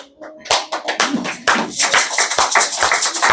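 A church congregation claps to acclaim the word of God, a dense close round of many hands starting sparse and building into steady loud applause.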